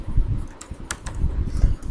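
Computer keyboard typing an email address and password, a close, quick patter of key taps with a low hum beneath and no talking.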